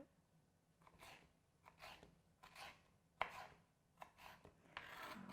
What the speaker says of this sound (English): now I'm just going to dice these into small little dices